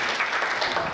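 Audience applause welcoming a poet at a Hindi humour poetry gathering, a dense continuous wash of clapping, fairly loud and even, with no voices heard.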